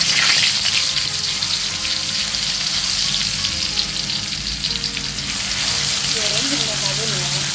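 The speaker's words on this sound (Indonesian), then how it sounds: "Kemudian masukkan bawang putih yang sudah dihaluskan ke minyak panas." Mashed garlic sizzles and fries in hot oil with a steady loud crackle close by, faint stirring and a brief voice near the end.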